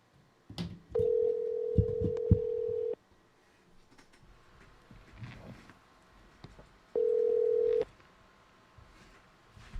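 Telephone handset tones: a steady electronic tone lasting about two seconds with clicks over it, then quiet, then another shorter steady tone, faint with light background noise.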